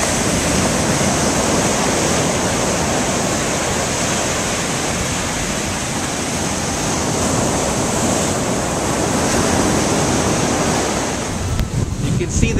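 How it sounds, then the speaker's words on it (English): Rough surf after Tropical Storm Alex pounds at West Bay, Roatan, a usually calm bay. The waves make a loud, unbroken roar mixed with heavy wind buffeting the microphone, and no one speaks. "I'll give you a little show of what the ocean's doing here on West Bay."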